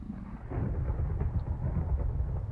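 A Minecraft thunderstorm over the open ocean, heard from a wooden boat, rumbles as a steady low roar with rain-like hiss, moderately loud and without speech.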